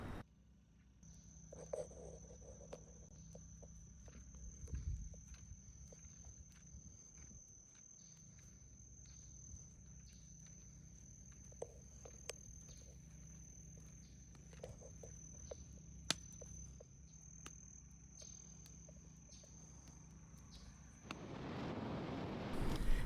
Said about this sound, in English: listen to the soundscape of the Everglades National Park